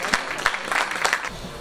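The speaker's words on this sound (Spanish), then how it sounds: "Un fuerte aplauso" Short burst of audience applause at a clinic's scientific medical conference: a few scattered, moderately faint claps lasting under two seconds, mixed with a voice.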